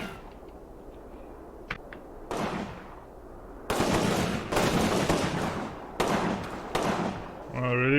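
Rattling machine gun fire and scattered gunshots in the WWII strategy game Combat Mission, sharp repeated bursts growing louder and denser toward the end over a steady battlefield rumble.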